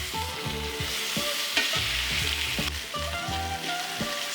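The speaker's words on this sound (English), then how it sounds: "Start searing the lamb leg." Lamb leg searing in vegetable oil in a very hot cast iron pan, a close, lively sizzle with crackles and a few sharp pops, no talking.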